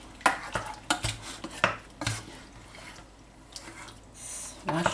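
A utensil scrapes and clatters in a frying pan while salmon and garlic are stir-fried, making quiet irregular clinks and stirring noises with soft talk in between.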